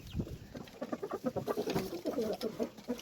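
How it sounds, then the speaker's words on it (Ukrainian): Chickens cluck and murmur close by in a busy, uneven chatter, with a few louder squawks rising over the flock. "кури, що ви сюди залізли вже?"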